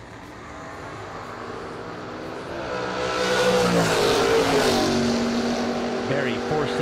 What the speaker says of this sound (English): Barry Brown out of Blunteville, Tennessee. The M&M prepared dragster.